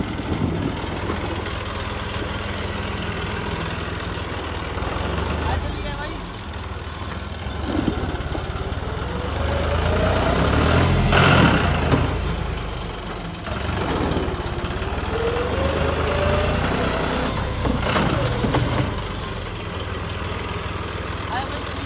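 A Ford 3600 tractor engine runs at a steady idle, its low rumble swelling and easing as it revs. People talk over it at times.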